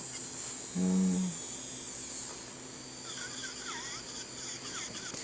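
A Labo Goldbeat electric nail drill runs at low speed while removing thick gel nails, giving a faint, steady high-pitched motor whine throughout, with a short low hum near the start.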